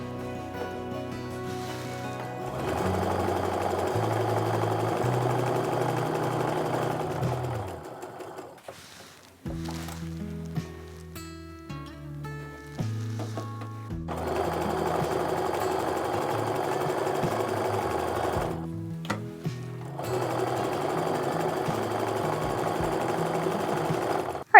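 A sewing machine joins 60-degree diamond quilt pieces, running in long steady bursts with short pauses and lower-pitched starts between them, loud and close with no talk.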